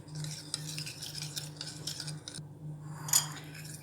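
A spoon stirring instant granulated coffee and sugar to dissolve them in water for tiramisu, giving steady scraping clinks against the cup under a low hum, ending with a brighter tap near the end.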